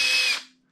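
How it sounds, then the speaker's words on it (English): A cordless hand drill runs in low gear for about half a second while cutting a thread for a dual patch feed, with a steady high whine that stops quickly and fades out, alone and close. "I will use the hand drill"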